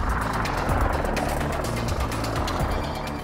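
A Westland Lynx attack helicopter flies close by, its rotor chop and turbine roar steady and loud throughout the short stretch, with no talk.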